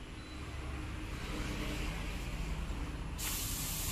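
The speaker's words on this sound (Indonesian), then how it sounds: "Semprot berulang kali biar tebel." A spray gun applies a polyurethane anti-scratch coating onto a pipe, giving a continuous loud hiss with a sharper, brighter burst of spray near the end, no talking.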